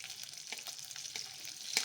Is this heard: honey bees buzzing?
no